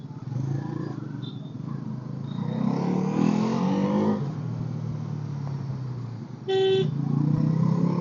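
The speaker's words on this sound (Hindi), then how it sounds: "मेन रोड तक का ट्रैफिक है भाई लोग" Busy Indian road traffic rumbles past on the way to a main road, with car and motorcycle engines droning and revving nearby and a sharp horn honk near the end.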